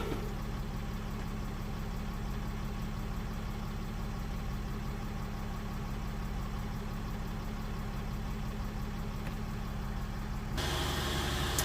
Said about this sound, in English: the scanner will rev up the engine, and therefore it's going to be noisy